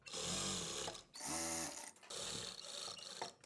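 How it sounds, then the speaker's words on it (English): A sewing machine runs in three short bursts while stitching the edge of a dupatta, with a steady close whir, brief pauses between runs and no talking. "I'm stitching the edge here."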